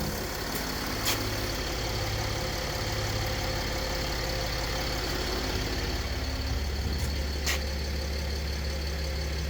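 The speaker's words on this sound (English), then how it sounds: "Yes, I hear it's working. Compressor, car is rising up." The air suspension compressor hums steadily as a Mercedes ML W164 rises, a constant mechanical drone over an engine running nearby, with a couple of brief clicks.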